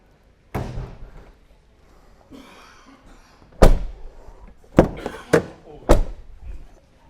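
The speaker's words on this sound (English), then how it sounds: "Your bonnet release is here" A release lever being pulled inside a Yucon 7.0 GD conversion van, giving a sharp clunk followed by a run of solid thuds and knocks, close by and loud, with a few quiet gaps between them.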